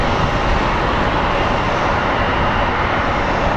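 Airplane at Phoenix Sky Harbor airport, a loud, dense roar of engine noise that stays constant and close for the whole short stretch, with no voices.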